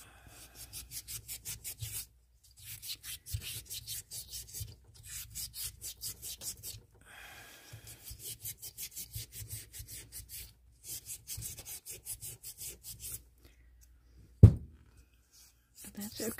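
Coarse sandpaper rubbing back and forth over a resin mold in rhythmic bursts of scratchy strokes, close and steady, with short pauses and a single sharp knock near the end.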